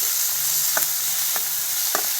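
Onions, tomatoes and cashews roast in a hot pan with a steady, close sizzle, broken by three quick scraping stirs spaced evenly through the short stretch.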